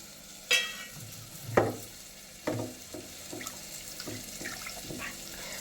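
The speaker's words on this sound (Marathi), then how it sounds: "आता त्यात आपण ते पाण्यामध्ये छान धुवून घेणार आहोत." Two cups of rice are swished in a pot of water, making a series of soft splashes and sloshes at irregular intervals, fairly quiet and close.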